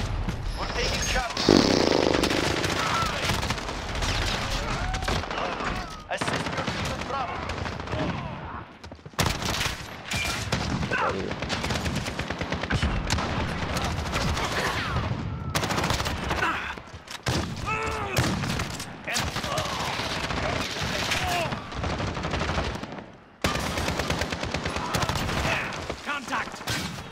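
Gunfire rattles through a Call of Duty match in repeated bursts of rapid shots over busy game noise, with a player talking loudly throughout.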